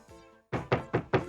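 Cartoon door knocking from a Little Miss Naughty episode: a short, brief tone-like sound, a pause, then four crisp, evenly spaced knocks, close and clear.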